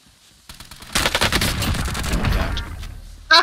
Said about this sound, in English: Taking fire here.